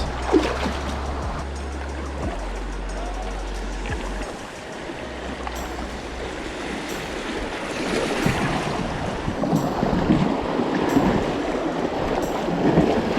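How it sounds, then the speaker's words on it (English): A boat running down river rapids on a fishing trip, with continuous loud rushing, splashing water and wind buffeting close to the microphone, rising in intensity toward the end; no talk. "we're about to send it down some rapids"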